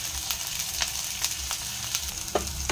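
Chopped onion and plenty of green chilli sizzle in garlic-infused oil, a steady close frying hiss broken by a few sharp crackles and spatters, with no voices.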